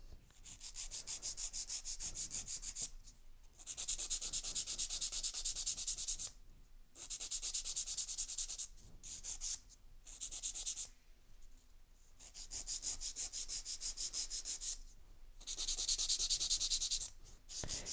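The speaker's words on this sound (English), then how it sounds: "So I will be filing in from the sides." A nail file reshapes acrylic gel nails into an almond shape, producing a close, steady back-and-forth rasping in repeated bursts of strokes broken by short pauses, with no talking.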